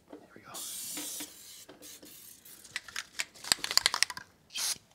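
An aerosol spray can coats exposed suspension parts on a Cadillac Escalade during a magnetic strut replacement, giving a few near, loud hissing bursts with brief pauses and some rattling handling noises.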